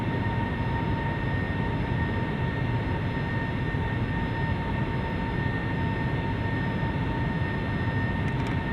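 Boeing 757-300 airliner engines humming steadily on approach in Flight Simulator X, a loud continuous drone with steady tonal whines throughout, no talk.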